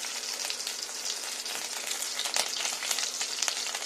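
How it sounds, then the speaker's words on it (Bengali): Shrimp and a dried red chili frying in hot mustard oil in a wok, giving a steady crackling sizzle heard up close with no talk. "তেলটা গরম হলে গার্নিশিং এর জন্য চিংড়ি মাছটা দিয়ে দিলাম আর একটা শুকনো লঙ্কা"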